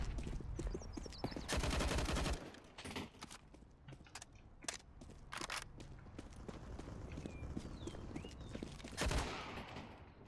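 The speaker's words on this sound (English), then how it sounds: "Deploying flashbang." Burst of sharp gunfire and explosive cracks in a video game, with a flashbang grenade going off amid rapid shots, clattering impacts and footstep-like taps.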